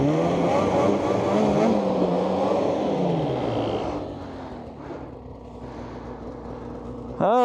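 A snowmobile engine revs hard while stuck in snow and towing a load, a loud rising-and-falling whine that fades to a lower idle drone before a sudden burst at the end.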